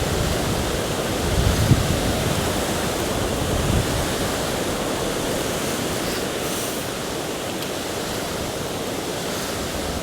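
A small mountain blue line stream in Pennsylvania flows with a steady, full rush of water, close and continuous, with no voices over it.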